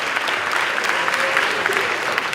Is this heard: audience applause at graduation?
yes